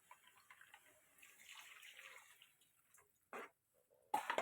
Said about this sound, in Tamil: புளியை கரைச்சி ஊற்றிக்கோங்க